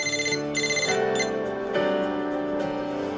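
A telephone rings with a bright electronic ringtone, a melodic pattern of sustained tones playing loud and close with no voices over it.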